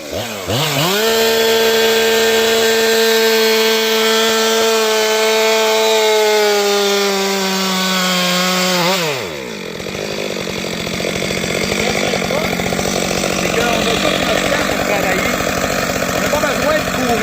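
A chainsaw felling an uprooted, leaning tree, first revving at a high steady whine, then dropping as the chain bites into the wood and cuts with a rougher, loud grinding drone.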